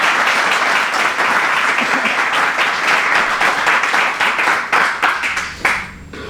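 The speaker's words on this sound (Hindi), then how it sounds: "आइए खुदावंद के लिए जोरदार तालियां।" Loud, sustained applause from a church congregation during a sermon, dense clapping that continues steadily before tapering off at the end.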